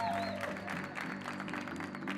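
Audience applause at a Eurovision 2018 meet and greet for Malta's entrant, moderate clapping from a crowd with a faint voice beneath and some tonal music or ringing in the background.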